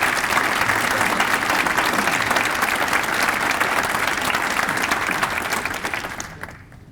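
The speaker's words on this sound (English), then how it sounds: "Again, another round of applause for those who retired," A village audience applauds for retired, promoted and newly hired staff, a dense sustained round of clapping from a large indoor crowd that holds steady before tapering off at the end.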